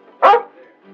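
A dog in a 1950s Western lets out one short, sharp bark close by, followed by a faint low background murmur.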